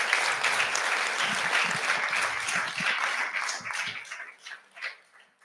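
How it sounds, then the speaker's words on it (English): An audience applauds youth panelists at an education transformation event, a dense, steady round of clapping filling the room that thins out and tapers into a few scattered claps at the end. "I want to invite the audience to give a round of applause again to the youth panelists."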